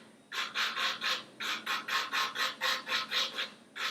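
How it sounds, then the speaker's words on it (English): A nail file rasps back and forth over a plastic nail tip on a practice hand, about a dozen even, close strokes in a steady rhythm after a short quiet start. "We're only filing the plastic tip."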